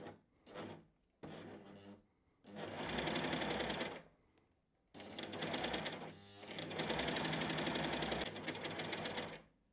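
Bernette b68 Maker coverstitch machine sewing with three needles and three threads, running in loud sustained motor bursts separated by short pauses, close up with no talk.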